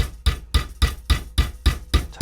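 A hammer taps steel wire in a steady rhythm, eight light, evenly spaced strikes with a ringing edge, close and clear.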